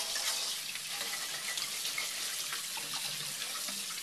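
Tap water runs steadily over overnight-soaked raw almonds during rinsing, a continuous close hiss and splash with no pauses and no talk.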